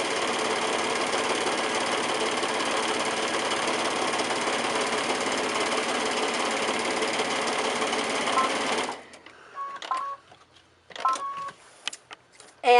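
Sewing machine stitching a cushion cover seam runs in a loud, close, steady whir for about eight seconds, then stops, leaving faint handling clicks and fabric rustle.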